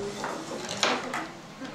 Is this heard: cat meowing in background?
no